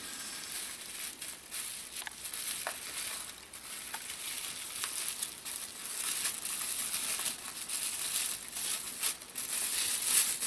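Thin plastic shopping bag being folded into a triangle, soft close crinkling and rustling that continues quietly throughout with small crackles.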